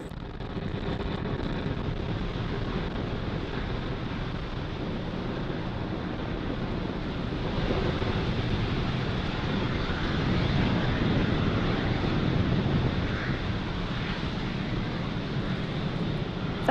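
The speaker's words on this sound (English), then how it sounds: "Falcon 9 has successfully lifted off with the SXM-8 satellite from Space Launch Complex 40." Falcon 9 rocket lifting off from Space Launch Complex 40 carrying the SXM-8 satellite, a steady, broad distant roar with wind buffeting that holds for the whole stretch, rising slightly midway, with no talk.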